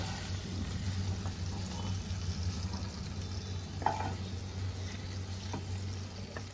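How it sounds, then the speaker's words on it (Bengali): Shrimp fry gently in oil in a pan, a soft, steady low sizzle with a faint background hum and an occasional light clink, fairly quiet and close, with no talking. "চিংড়ি মাছগুলো আমার ভাজা হয়ে গেছে।"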